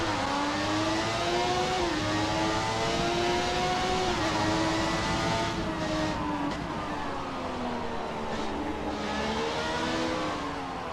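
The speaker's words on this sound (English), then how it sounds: "I've already fallen in love with that engine sound." Williams 1998 Formula One car in the F1 2017 racing game, its V10 engine revving loud and steady with rising and falling pitch sweeps as it accelerates and shifts, heard alone throughout.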